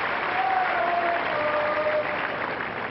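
A tennis crowd applauding after Sampras's service game, dense steady clapping that carries on throughout with a faint whistle.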